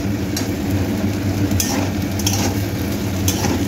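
Gobindobhog rice frying in a pan with ginger, cumin, coriander and chili pastes as potatoes go in: a steady, close sizzle with occasional soft scrapes and clinks, no voices.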